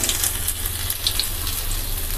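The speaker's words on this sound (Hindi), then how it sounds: "इसमें ऐड करना है थोड़ा सा अदरक कटा हुआ, इसे भी थोड़ा सा हमें फ्राई करना है" Chopped ginger and garlic frying in a pan for kadhi, a steady close crackling sizzle that stays even throughout with no talk.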